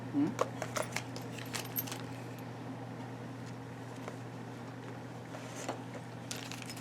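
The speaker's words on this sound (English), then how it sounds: "Allen keys." Allen keys from a guitar hardware kit clink and jangle lightly up close, a few faint metallic taps over a steady low hum in the background.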